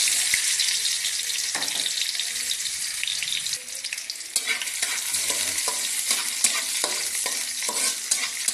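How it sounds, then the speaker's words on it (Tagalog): Garlic, ginger and onion sauté in a hot kawali on a stove, giving a steady close sizzle broken by sharp scraping and tapping from stirring throughout. "Then dito sa ating kalan, tayo ay nagsalang na ng kawali at tayo ay maggigisa"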